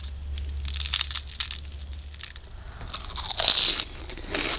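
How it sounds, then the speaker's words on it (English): Knife cutting through a fried egg roll with a thin, crispy wrapper, giving a few short, light crunches close by, with a brighter crackle near the end over a low background hum. "Because the wrapper is so thin, it was super light to cut through it actually."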